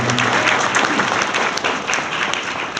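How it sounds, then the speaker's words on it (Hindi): Congregation clapping during a gospel sermon: dense, loud applause close by, many hands beating at once in a continuous, slightly uneven patter with individual sharp claps popping through. "ताली तो बजाइए।"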